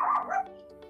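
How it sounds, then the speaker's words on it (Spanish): A single short bark from a small dog, fairly faint, followed by quiet. "se escuchó los ladridos de mi perrito"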